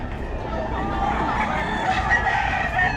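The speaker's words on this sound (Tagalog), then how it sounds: "marami na tayong nakikita mga manok dito" Roosters crowing and hens clucking together, a busy, close chorus of poultry filling the yard with overlapping calls.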